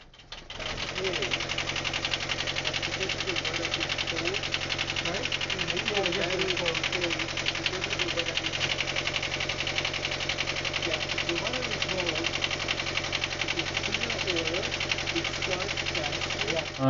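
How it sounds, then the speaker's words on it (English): Steady, continuous hum of a sailboat's inboard engine with a rhythmic mechanical knock, running evenly at idle throughout after a restart following an oil change, with no speech. "it was time to restart the engine to circulate the fresh oil to internal parts"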